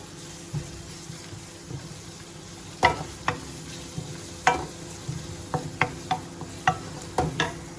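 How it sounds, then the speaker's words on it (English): Butter bean curry with ground fresh chilies being stirred in a pot: a soft bubbling sizzle under a string of sharp spoon knocks and scrapes, growing more frequent toward the end. "And then I'll just give that one a stir."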